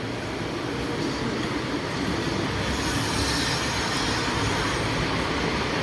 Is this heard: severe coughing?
no